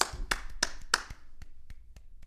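A few slow, solemn hand claps, sharp and close, ring out one at a time in a quiet room, followed by several softer, fainter taps.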